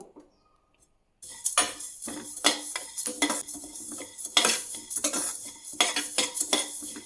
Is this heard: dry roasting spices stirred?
yes